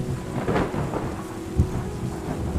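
Steady rain and low rumbling thunder from the ecological restoration video game Terra Nil form a continuous, fairly loud storm ambience with a soft thump partway through.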